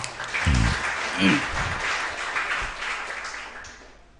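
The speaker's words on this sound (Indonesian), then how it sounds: "tepuk tangan sekali lagi buat Vika" Audience applause for Vika at a religious talk by KH Yusuf Mansur, a brief burst of clapping that swells early, dips, then fades into a room murmur.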